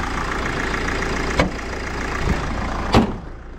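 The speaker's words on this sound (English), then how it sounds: "Just turn this engine off quick." A Mercedes Sprinter twin-wheel MWB high-roof van idles with a steady mid-pitched engine rumble, close by, with two sharp knocks or clicks partway through.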